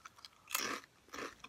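Two loud, close crunches of O'Donnell's Ballymaloe Relish and Cheddar crisps being bitten and chewed, a hard crackly bite followed by a second crunch, with no talking.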